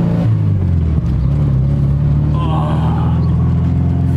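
Honda Civic with a built engine block revving on its first drive after the rebuild, a steady close rumble that swells slightly, heard from inside the car with a brief voice over it.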